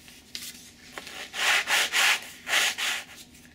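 Sandpaper rubbed on a park flyer model airplane aileron, beginning with a few light scrapes and then four loud, even strokes of abrasive rasping, close up with no talk.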